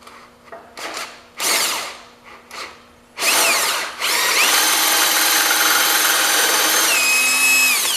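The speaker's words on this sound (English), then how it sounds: "Just drill into it." A power drill whirs in several short bursts, then bites into metal on a 1978 John Deere 208 engine for a long, loud continuous grinding run, close up.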